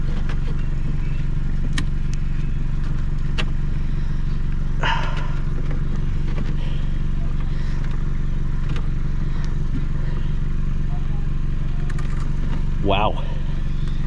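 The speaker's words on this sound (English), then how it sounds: "Oh, you guys enjoying the sound of my muffler?" A vehicle engine running without a muffler gives a loud, steady, low rumbling roar that fills the whole stretch, with brief voice sounds rising above it.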